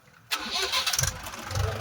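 A tractor engine cranks and catches near a salt field, then settles into a rough, rumbling idle, loud and close with slight uneven surges.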